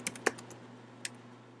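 A few quiet, crisp clicks of typing on a computer keyboard, irregular and close, with two louder key strikes near the start and one shortly after.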